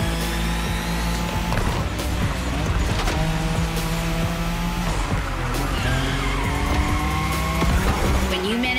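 A bulky car drifting in The Crew Motorfest, its engine roaring continuously while tires squeal in long, loud sustained streaks, with brief clicks and gear changes throughout.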